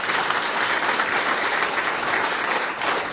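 A crowd at the 2014 Saenuri Party Gyeonggi provincial chapter New Year opening ceremony breaks into loud, continuous applause, a thick wash of clapping with no voices over it.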